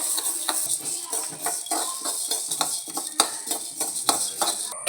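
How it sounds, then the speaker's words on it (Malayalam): Horse gram dry roasting in a pan on the stove, with steady scraping and rattling of stirred seeds against the metal and repeated light clinks throughout, close and fairly loud. "മുതിര കുറച്ച് എടുത്തിട്ടുണ്ട്, അടുപ്പത്തേക്ക് വെച്ചിട്ടുണ്ട്. ഇത് നന്നായിട്ട് വറുത്തെടുക്കണേ."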